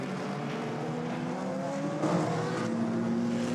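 A race car engine drones steadily at the FIA WEC Rolex 6 Hours of São Paulo, the loud, continuous engine note holding with slight pitch shifts and no voices over it.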